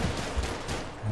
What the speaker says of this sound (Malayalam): ഇവനാണ് നമ്മളെ വെടി വെക്കുന്നത്.